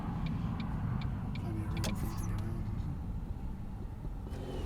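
A Ford Mondeo ST220 Estate engine running steadily up close, a continuous low rumble with faint ticking above it.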